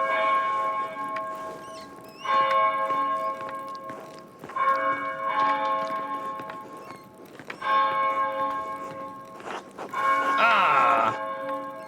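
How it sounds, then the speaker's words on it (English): A church bell tolls repeatedly in the video game Pentiment, several resonant strikes with ringing decays spaced a few seconds apart, loud and clear, with a brief vocal sound near the end. "Oh, bell ringing."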